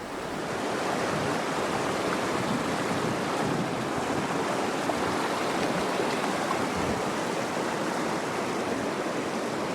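A river flows steadily at a trail crossing in Broad Canyon in the Copper Basin, a continuous broadband rush of water that stays loud and even throughout, with some wind mixed in and no voices.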